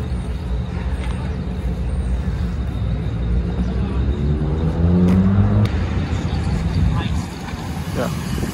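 Project Javelin vehicle from Spark Cycleworks accelerating under boost, a loud steady engine whine whose tone climbs in rising sweeps before easing off near the end, with a rough, close drone underneath.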